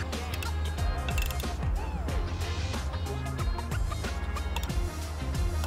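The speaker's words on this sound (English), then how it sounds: "we're gonna take our torque wrench and torque this M8 bolt to 15 foot-pounds" A torque wrench ratchets an M8 bolt on a BD Killer grid heater install, giving a rapid series of sharp mechanical clicks and creaks that repeat steadily throughout.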